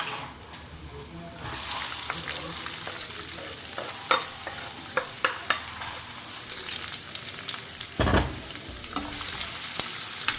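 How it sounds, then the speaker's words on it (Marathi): Onions frying in plenty of oil with garlic in a pan for a flat bean dish, a steady sizzle broken by scraping stirs and a few sharp clinks. "सो कांदे न्ही मातशें एक लायट ब्रावन जाय आसा न्ही एका बरें फ्राय करून घेवया."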